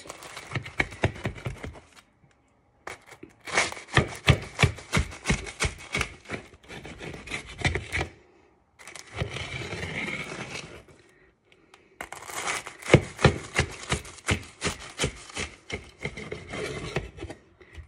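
A knife slices through a cornflake-breaded schnitzel into portions, giving bursts of crisp crunching and rasping strokes in several close, loud passes separated by short pauses.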